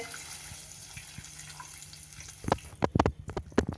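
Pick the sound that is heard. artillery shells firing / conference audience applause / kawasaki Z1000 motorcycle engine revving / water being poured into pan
water being poured into pan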